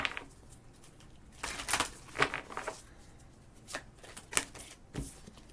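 A deck of tarot cards being shuffled close by, bursts of crisp riffling and flicking patter separated by brief pauses.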